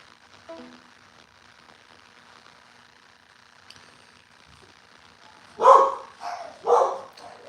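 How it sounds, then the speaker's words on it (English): Pet dogs at home barking: a few faint distant yips early on, then three loud close barks in quick succession near the end. "Hear my dogs?"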